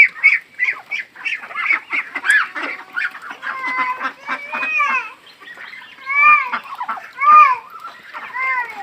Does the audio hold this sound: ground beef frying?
no